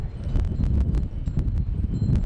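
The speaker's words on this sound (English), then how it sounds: "Oh wow, that wind." Strong wind buffets a cliffside path at Wat Phu Tok temple in Thailand, producing a loud, low, gusting rumble against the microphone with scattered sharp crackles and no voices.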